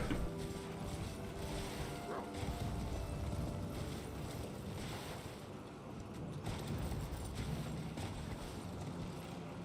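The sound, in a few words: horse hooves in a video game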